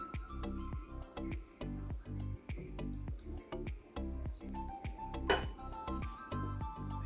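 Repeated metallic clinks and scrapes of a spoon stirring rice pudding in a saucepan, in an uneven rhythm, fairly quiet with no talking.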